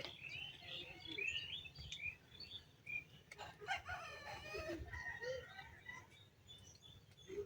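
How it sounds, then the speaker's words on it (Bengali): A rooster crows amid a busy morning chorus of chirping birds, with low rumbling background noise throughout. "আর সকালে উঠলে পাখির কিচিরমিচির মোরগের ডাক"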